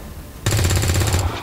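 A soldier's weapon in XCOM 2 fires a rapid, loud automatic burst lasting under a second after a quiet lead-in, then fades quickly.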